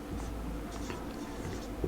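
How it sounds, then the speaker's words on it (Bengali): Pen scratching steadily on paper while writing out HTML table tags in a lesson, continuous soft writing noise close to the microphone, with no talking. "ওকে বায়োলজি লিখলাম"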